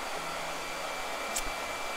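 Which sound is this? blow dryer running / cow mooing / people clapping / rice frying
blow dryer running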